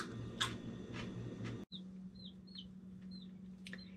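A flock of 25 meat chickens gives a run of short, high chirping calls, several spaced over a few seconds at moderate distance, over a steady low hum.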